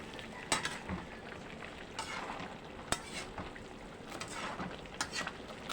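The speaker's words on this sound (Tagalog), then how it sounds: "Haluin lang po natin guys." Squash and string beans with shrimp paste being stirred in a pan, giving a faint, steady scrape and low sizzle broken by a few sharp utensil clicks against the pan.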